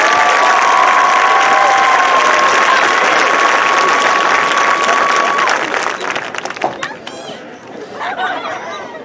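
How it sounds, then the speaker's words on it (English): Sustained applause and chatter from a crowd at a 2022 Brentwood High School graduation ceremony, loud and dense at first, then thinning into scattered claps and voices over the last few seconds. "Ladies and gentlemen, one more round of applause for this row of graduates."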